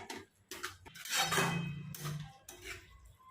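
Onion vegetable with peanuts, chili and garlic being stirred in a pan, a run of close scraping and clinking spoon-on-metal strokes with short pauses between them.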